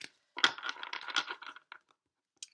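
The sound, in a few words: shuffling tarot cards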